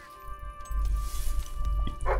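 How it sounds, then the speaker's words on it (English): A dog in Fable III gives short barks and yips, fairly close, over a steady game backdrop with a brief higher squeal near the end. "This dog is all over the place."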